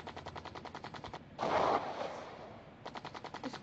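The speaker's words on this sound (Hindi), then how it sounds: "इसे जल्दी से खुद कुछ गोलियां मार लेते हैं इसके ऊपर।" Rapid machine-gun bursts from an aircraft in the Sky Fighters combat game rattle in two clear volleys around a louder explosive blast in between.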